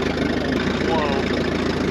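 Vintage Model A engine on a rail speeder cart idles steadily with a continuous rumbling drone and fine rapid pulsing, loud and close, with a voice speaking over it.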